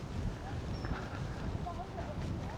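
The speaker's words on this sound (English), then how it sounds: "the wind's really picking up" Strong wind blowing outdoors near a river at East Stoke in Nottinghamshire, roaring heavily and continuously across the microphone.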